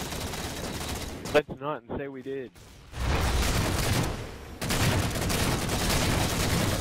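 Railgun fire in a video game gives loud, harsh, noisy bursts: a blast, then a sustained roar after a gap, alongside a man's brief speech.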